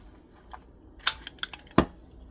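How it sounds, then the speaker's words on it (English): Scissors snip the corners of a card, a handful of short, sharp clicks and crisp cuts at close range in a quiet room, spaced irregularly with the last snip loudest. "I'm just gonna snip the corners there"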